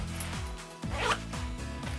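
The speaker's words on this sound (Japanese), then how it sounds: "3つとも全部ジッパーがついています。" Zipper on a pocket of a Patagonia Retro-X fleece jacket, several quick close zipping strokes in a brisk rhythm, heard alone and clearly.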